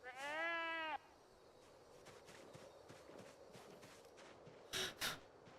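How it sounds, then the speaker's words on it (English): A sheep gives one clear, wavering bleat in the Project Zomboid video game, followed by soft footsteps and light shuffling, then two quick sharp knocks near the end. "That sheep sounded like a zombie."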